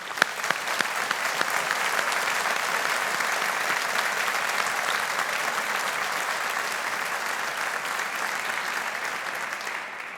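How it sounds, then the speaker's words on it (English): Sustained applause from a large crowd, steady and dense for the whole stretch, fading slightly near the end. "with a round of applause"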